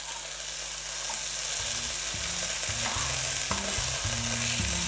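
Veal saltimbocca with prosciutto frying in a pan, a steady close sizzle with intermittent scraping and clinking of a utensil against the pan as the pieces are turned, no voices.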